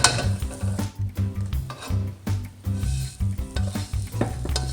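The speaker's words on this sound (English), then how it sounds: "it makes it so much easier to just transfer things because it slides down nice and easy" Vegan sisig being scraped from a non-stick pan into a bowl, with steady sizzling and repeated rhythmic scraping and clinking of a utensil against the pan, close and loud with no talking.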